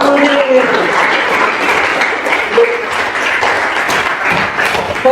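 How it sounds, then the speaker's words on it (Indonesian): Classroom students clap for a classmate in a loud, close, fairly brief burst of applause, with voices talking over it. "tepuk tangan buat Udi"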